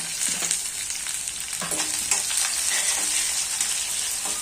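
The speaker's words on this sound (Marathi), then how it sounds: "कांदा मऊ होईपर्यंत याला छान असं आपण परतवून घेऊन" Chopped onion sautés with dried curry leaves in a pan, giving a steady close sizzle broken by soft stirring scrapes.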